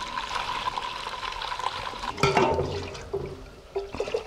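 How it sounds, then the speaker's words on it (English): Soup broth poured through a fat separator in a kitchen while making white wine French onion soup, giving a close splashing, gurgling pour that swells midway and then trickles off in short bursts. "We're going to pour off the fat."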